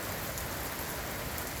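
Heavy rain pours down at night in a windy city, a dense, even roar of water close by with no break.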